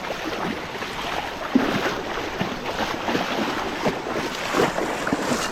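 A river flows beside a hiking trail on the way to Puray Falls, giving a steady, broad rushing wash that holds fairly even throughout with no talk over it.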